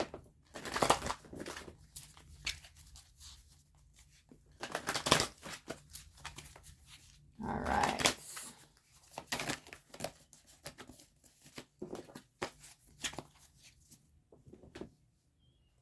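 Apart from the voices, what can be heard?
shuffling tarot card decks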